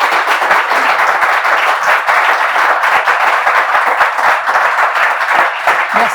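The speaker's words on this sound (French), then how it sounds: "On peut applaudir, s'il vous plaît." A studio audience at a French television talk show applauds, dense and steady clapping filling the room loudly for the whole stretch with no break.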